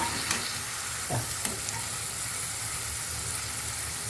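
Ingredients for an oil-mango chutney fry in a pan with a soft, continuous sizzle, a few light stirring taps near the start, and no voices.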